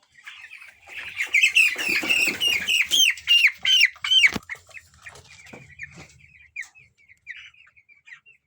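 Broiler chickens cluck and squawk close by as one is weighed, a busy run of sharp calls in the first half that thins out into scattered softer clucks and chirps.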